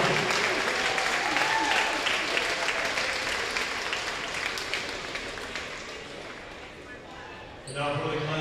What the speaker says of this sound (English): a round of applause for the Class B Boys All-Star Basketball Team